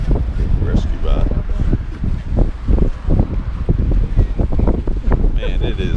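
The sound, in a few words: wind blowing outdoors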